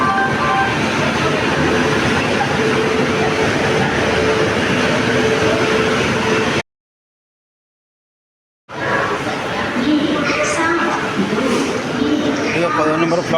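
A train stands at platform 10 of Vijayawada station on a night of heavy rain, giving a loud, continuous rumbling drone broken by a brief silence, with people talking nearby.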